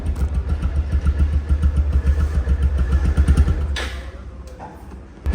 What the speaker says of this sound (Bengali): এই বাইকটির সাউন্ড আপনারা শুনতে পাচ্ছেন